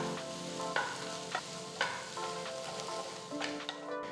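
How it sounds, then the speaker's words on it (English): Peanuts, dried red chillies and bits of tamarind sauté in a pan with a soft continuous sizzle and several sharp knocks of a spoon stirring against the pan, without speech. "Saute all the ingredients for a few minutes"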